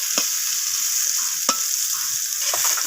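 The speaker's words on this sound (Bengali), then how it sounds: "ডাঁটা আর উচ্ছেটা একদম লালচে করে ভাজা হয়ে গেছে" Drumsticks and bitter gourd fry in hot oil while a spoon stirs them, giving a steady close sizzle broken by three sharp scraping strokes against the pan.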